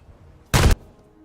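A single loud, short burst of naval gunfire from warship guns in a video game, a dense blast lasting about a quarter second against a quiet background.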